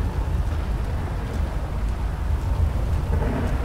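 Thunder from a lightning storm over an alien crash site, a loud continuous low rumble with a rain-like hiss layered on top, and no talking.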